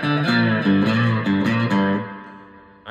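Electric slide guitar played with a glass slide through distortion, sustained gliding notes with a few repeated phrases sliding between pitches, loud and close, ringing out toward the end.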